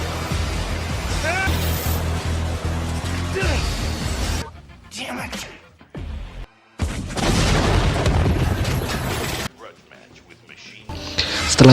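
A combat truck fires its cannon and destroys a competitor's car during a deadly race, with loud booms and crashing blasts over a dense, busy soundtrack, then brief drops to near quiet before the noise surges back.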